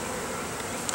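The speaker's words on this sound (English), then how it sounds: "Gotta move some of those bees." Honeybees swarm around an open hive during an inspection, their dense, steady buzzing filling the scene up close with no talk over it.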